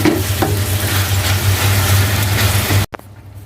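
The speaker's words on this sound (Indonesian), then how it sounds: "Kita aduk-aduk sampai rata supaya bumbunya meresap" Seasoned meat stirred in a hot pan, a steady close sizzle with scraping of the stirring that stops abruptly just before the end.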